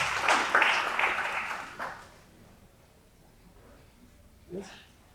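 Brief burst of audience applause for a panel speaker, fairly near and lively for about two seconds, then fading quickly into quiet room noise with a short voice near the end.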